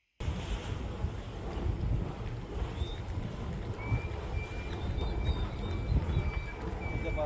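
A boat motoring across the Panama Canal channel toward Shelter Bay Marina, with steady broadband engine and water rush under heavy wind noise, continuous for several seconds and a faint high whine appearing midway.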